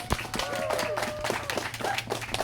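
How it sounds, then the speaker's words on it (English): An audience claps for political candidates at a gubernatorial campaign event, a short burst of scattered clapping close by, mixed with a voice and background chatter. "let's give them a round of applause"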